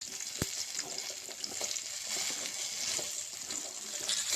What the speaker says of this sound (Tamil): நம்ம ஒரு 3 பீட்ரூட்டை நறுக்கி வச்சுருக்கோம், அதை ஆட் பண்ணிக்கலாம்